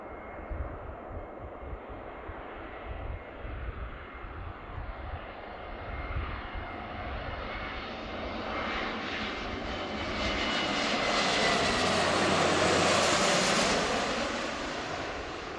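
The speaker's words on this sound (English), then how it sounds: "So this is a Airbus A321 from Salt Lake City, Delta Airlines." A Delta Airlines Airbus A321 jet passes near an airport, a steady engine roar swelling from a distant rumble to a loud, close whoosh, then beginning to fade; no talking.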